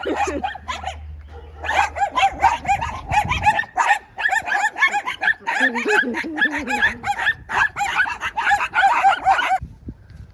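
Small dogs bark and yap in a steady, overlapping chorus near greenhouses in farmland in Murcia, Spain, with a rooster crowing and chickens clucking among them and people talking over the noise.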